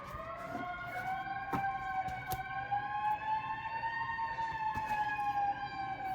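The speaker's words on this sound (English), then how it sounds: "Here come the sirens." Emergency vehicle sirens wail outside, a clear, wavering tonal sweep holding steadily at moderate distance, with occasional faint knocks nearby.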